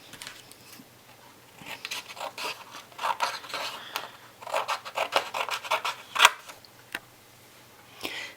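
Scissors cutting through a piece of acetate sheet up close, irregular crisp snips and scratchy slicing strokes that build to a sharp snap, then a few last quiet cuts, no talking.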